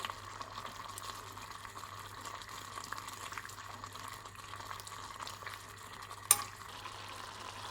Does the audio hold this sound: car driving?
no